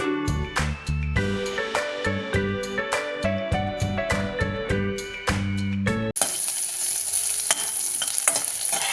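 Garlic and onion sautéing in a pan for a ridge gourd sambar: a steady broadband sizzle with scattered spatula scrapes comes in after several seconds of loud tonal music, close and fairly strong.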